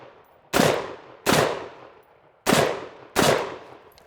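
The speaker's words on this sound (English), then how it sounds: "You can shoot this gun, you can shoot it one-handed. You get on the target and shoot the target." A rifle fired one-handed at a target, four loud, sharp reports spaced roughly a second apart, each with a short ringing decay into near silence.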